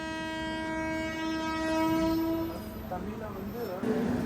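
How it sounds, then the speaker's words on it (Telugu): Train setting off at the start of a Pune to Kanyakumari rail journey: a long, sustained horn tone gives way to rising rumble and rattling carriage noise close by, with a voice talking over it. "ఆ బండి బయలుదేరింది, మన బండి బయలుదేరింది."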